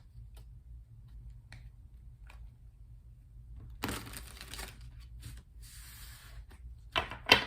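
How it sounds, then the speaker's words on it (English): Everyday Witch tarot cards are shuffled by hand. Faint ticks come first, then two short papery riffling bursts and a final quick flurry of card noise, close and alone without speech. "let's continue by pulling 4 Everyday Witch tarot cards. You can do some shuffling, of course."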